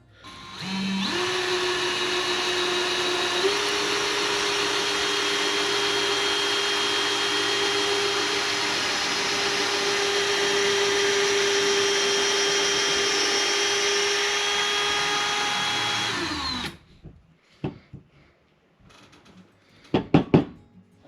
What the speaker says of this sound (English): get this reamed out and go bigger and bigger till it'll fit down on there where we need it